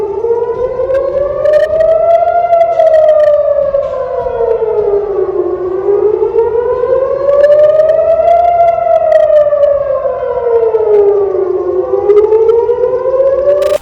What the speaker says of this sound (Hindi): इजराइल के इलाके यानी तेल अवीव में किस तरह से सायरन की आवाज सुन के